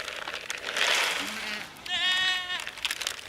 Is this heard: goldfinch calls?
no